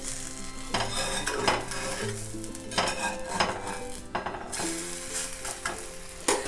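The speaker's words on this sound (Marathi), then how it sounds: "आता आपण हे परतायची हळूहळू, सगळ्या बाजूने सोडून घ्यायची अशी" A spatula scrapes and stirs narvel leaf poli sautéing in a hot pan, giving close, repeated metallic scrapes over a continuous soft sizzle, with no voices.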